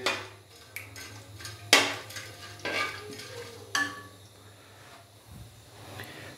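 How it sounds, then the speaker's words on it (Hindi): Whole spices frying briefly in oil over a low flame for pulao, a soft sizzle beneath intermittent clinks and scrapes of a spoon stirring against the pot. "ये जो अभी हमने खड़े मसाले डाले हैं इनको हल्का सा फ्राई करेंगे"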